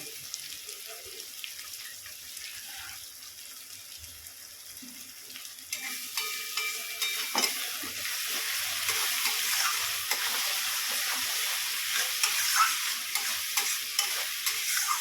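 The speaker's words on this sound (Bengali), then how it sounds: "এবার আমি মশলাটা কষিয়ে নেব" Spice masala sautéing in a pan: a quiet sizzle at first, then louder frying and busy stirring with scraping spoon strokes that build and hold steady toward the end.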